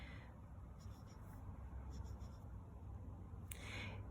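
A pencil draws straight up-and-down lines on paper, leaving faint, soft scratchy strokes that come in a few short bursts against a quiet background.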